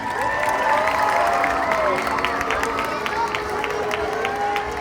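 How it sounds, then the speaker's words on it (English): Audience at SeaWorld San Diego claps and cheers as an orca named Orchid arrives, a sustained burst of crowd applause with whistle-like tones over it and a presenter's voice on a loudspeaker. "can we give her a big round of applause?"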